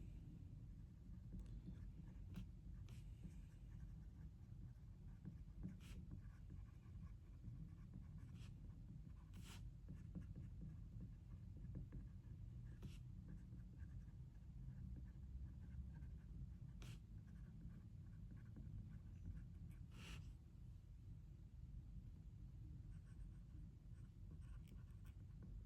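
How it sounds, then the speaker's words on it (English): Pen scratching steadily on paper while working through a heat-transfer homework problem, faint and close, with small scribbles and ticks over a constant low background hum; no speech. "I'll write this down."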